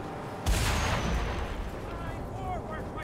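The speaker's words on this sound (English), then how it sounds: "Hooray for fireworks!" Explosions go off in the Mad Max video game, starting with a sudden loud boom about half a second in and then rumbling on as a dense, sustained roar of blasts and gunfire-like bursts.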